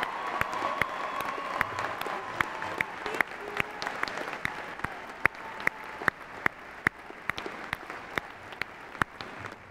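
A commencement audience applauds graduating students, a broad steady wash of many hands clapping in a large hall, with occasional sharper individual claps standing out over the crowd.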